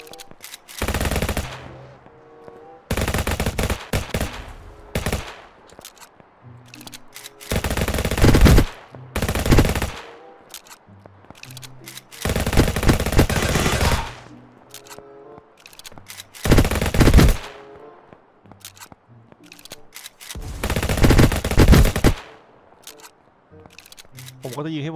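Bursts of automatic and single gunfire from a mobile GTA Vice Online gang shootout, loud rapid volleys recurring every few seconds with short gaps between, under occasional talk.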